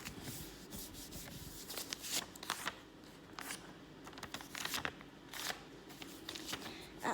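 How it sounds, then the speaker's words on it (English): A small sheet of letter paper being folded in half by hand while making an envelope, heard as close, quiet rustling and creasing scrapes in short repeated bursts with no talking. "first you fold the paper entirely half."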